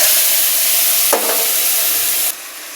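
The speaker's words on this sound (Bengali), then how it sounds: "জিরে, শুকনো ঝাল, তেজপাতা তেলে দিয়ে দিলাম।" Ground spice paste with onion, garlic, dried chili, cumin and ginger hits hot oil with cumin, dried chili and bay leaf, giving a steady close sizzle and frying hiss, briefly stirred, with the sizzle dropping slightly near the end.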